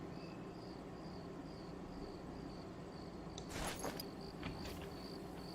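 Crickets chirp in a steady, faint pulsing pattern across a quiet early-morning African hunting landscape in theHunter: Call of the Wild, with a brief rustle of footsteps partway through.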